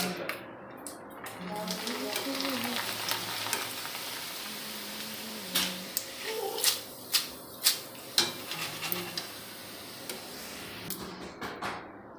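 Homemade gathiya frying in hot oil, a steady close sizzle under talking, with a series of sharp metal scrapes and clinks from a utensil in the pan growing more frequent toward the end.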